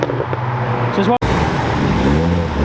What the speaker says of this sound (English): That's a V8 for you.